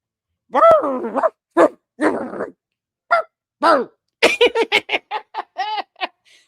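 Buster the dog barks in a quick run of short yaps and whimpery calls, close and loud, broken into bursts with brief gaps, ending in a rapid string of high barks; there's no speech.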